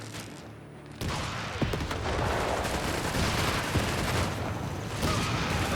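Dense battle gunfire from Company of Heroes 3 with Panzer Grenadiers firing at charging infantry, a steady barrage of rifle and machine-gun shots with scattered booms, loud and continuous after a quieter first second.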